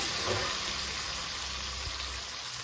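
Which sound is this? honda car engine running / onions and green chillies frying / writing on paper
onions and green chillies frying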